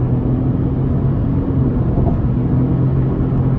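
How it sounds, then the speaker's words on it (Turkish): A Renault Clio 1.0 TCe with an Xtronic CVT-style automatic pulls hard at full throttle, its engine a steady, loud drone with constant low rumble and no breaks, heard from inside the car. "Şu an dip gaz mesela. Bakalım nasıl hızlanıyor Clio'muz."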